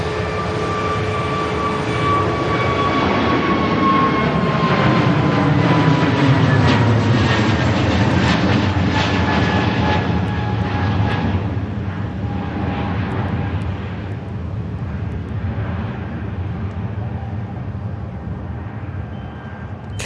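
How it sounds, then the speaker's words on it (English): A new Jet2 airliner departing Manchester Airport, its engines giving a steady roar with a high whining tone that slowly falls in pitch as it climbs away. "Off to Finland, that new Jet2 goes"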